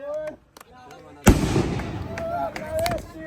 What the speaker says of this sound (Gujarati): એલા ફટાકડા ફોડો હે હવે.